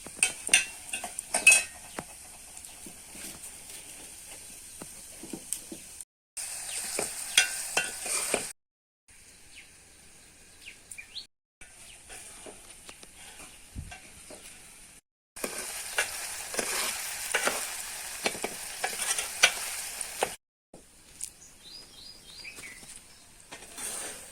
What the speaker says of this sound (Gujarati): હવે ડુંગળી નાખી દીધી છે અને આપણે હવે ડુંગળી એકદમ ચડી જાય